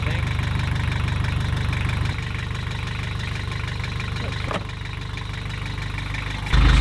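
A boat engine idling to warm up before an oil change, a steady close mechanical drone throughout with a slight shift midway and a louder rumble at the end.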